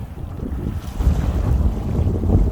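Wind blowing by the Han River at Banpo Hangang Park, a steady low rumbling roar of gusts buffeting the microphone, rising slightly after the first second and continuing without pause.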